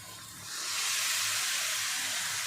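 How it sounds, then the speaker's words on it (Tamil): Chicken spaghetti sauce with tomato boiling in a pan, giving a steady loud hiss and sizzle that swells after a moment and holds without talk. "ஆல்ரெடி பாயில் ஆகுது தான், இன்னும் கொஞ்சம் பாயில் ஆகணும்."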